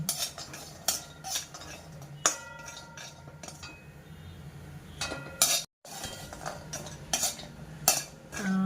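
Almonds roasting in ghee are stirred with a metal spoon, giving repeated scraping clinks against the pan over a soft background sizzle, with a brief silent gap midway.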